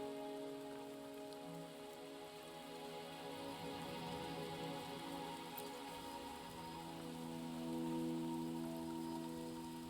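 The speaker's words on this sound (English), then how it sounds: "Are you trapped here by the rain?" Rain falls steadily in a video game scene, a soft continuous patter on surfaces that stays even throughout with no voices over it.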